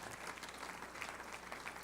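A church congregation applauds together, a dense, steady wash of many clapping hands at moderate distance that holds level without a break.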